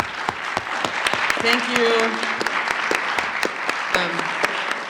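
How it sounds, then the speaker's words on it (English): A conference audience claps for its panelists at the Callaloo Conference, a steady, dense round of applause with a voice briefly speaking over it. "Last round of applause for our panelists."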